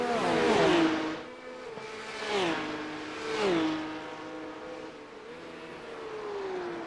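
Porsche Cup race cars lapping Watkins Glen International, their engine notes swelling and falling in pitch as several cars sweep past one after another, loud and fairly close with no talking.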